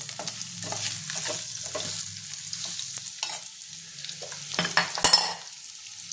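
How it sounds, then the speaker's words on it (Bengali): Steady sizzling of steamed elephant foot yam frying in hot oil, with a spatula scraping and stirring against the pan and occasional clinks. "কচুটা আমি ভেজে নেব"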